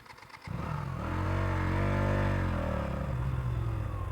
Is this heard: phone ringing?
no